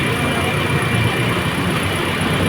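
A Toyota Vios radiator fan motor runs with the air conditioning on, a steady close whirring drone over the idling engine, unbroken and fairly loud throughout.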